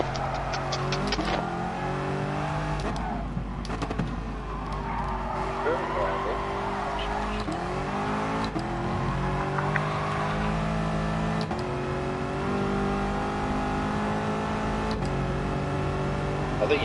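Car engine droning and revving steadily in a racing video game, with tire skids and squeals breaking in now and then, while people talk over the game sounds throughout.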